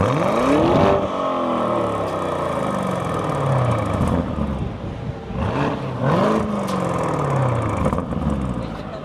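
A Lamborghini Urus engine revs hard in short, loud bursts, the pitch sweeping up and falling back twice, with a steady mechanical roar close by and no talking.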